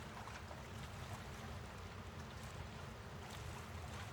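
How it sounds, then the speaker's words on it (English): Water washing against the stony shore of an Alaskan mountain lake, a dense, continuous wash of surf-like noise, loud and close, with no talking. "you can hear the water lap up onto the shore"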